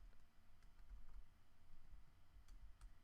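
Faint keystrokes clatter on a computer keyboard, a few soft taps and clicks scattered over a steady low hum, with no voices.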